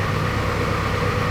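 A turbo Honda engine on a dyno runs with a steady, loud, rough drone and no pause or break.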